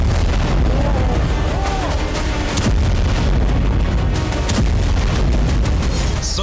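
Repeated booms and sharp blasts from a drone attack on Russia's Engels-2 air base burst out over a dense, roaring background, with voices faintly audible beneath the din.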